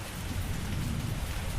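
Steady rain pours with a low rumble of thunder underneath, a constant dense wash of sound throughout with no voices.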